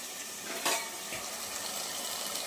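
Mutton keema sautéing in a pan gives off a soft frying sizzle, broken by a couple of light scraping clinks from stirring partway through.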